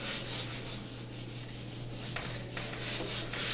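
An eraser rubs chalk or marker off a board in a maths lecture, making a steady, close scrubbing sound for several seconds with brief sharper swipes near the end.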